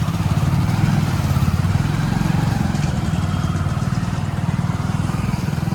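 A motorcycle rides through a town's streets toward the market with its engine putting out a steady, close, buzzing drone that stays constant and loud throughout the ride.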